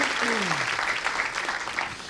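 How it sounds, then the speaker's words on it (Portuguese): Dense, steady clapping from a church congregation, loud and continuous, with a voice briefly calling out over it at the start. "mais uma salva de palmas a Jesus"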